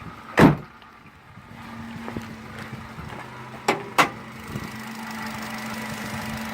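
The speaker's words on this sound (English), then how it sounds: "we'll pop the hood. Makes a very loud pop" A car with a 1.6-liter engine has its hood latch released: one loud, sharp pop near the start, then two quicker clicks a few seconds later, all over a low idling engine hum.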